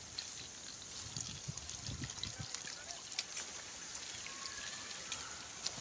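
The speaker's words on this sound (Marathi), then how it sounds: "गोठ्यावरती पाणी पण मारणं चालू आहे।" Water being sprayed onto a newly built brick cattle shed gives a soft, continuous patter and trickle, like light rain, with low thuds early on and someone talking.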